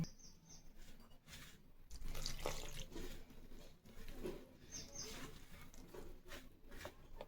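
Water is poured into flour with oil mixed in, for dal batti dough; a close, steady patter and splash runs through the whole stretch with no talking.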